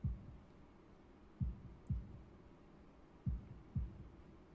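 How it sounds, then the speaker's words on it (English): A heartbeat sound effect from the visual novel Katawa Shoujo gives low, muffled double thumps in slow pairs, repeating steadily over quiet background. "holding my breath in an attempt to hear my heartbeat"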